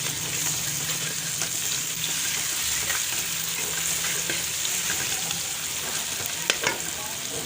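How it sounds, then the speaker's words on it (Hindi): Garlic ginger paste sizzles and fries in oil with onions, a dense steady crackle heard up close, with faint stirring scrapes and no voices. "ये लहसुन अदरक पेस्ट शामिल कर दूँगी।"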